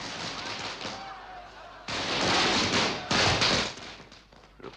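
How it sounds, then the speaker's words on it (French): Several sharp bursts of bangs and crackles come in quick clusters, loud and echoing, separated by brief quieter stretches. "Je crois plutôt qu'il s'agit d'un feu d'artifice."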